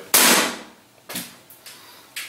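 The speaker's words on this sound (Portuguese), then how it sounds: "Fazer uns disparos aí." Shots from an APS ACP Glock-type CO2 gas blowback airsoft pistol, a sharp loud crack followed by four more spaced snaps of varying strength, close and with no talking.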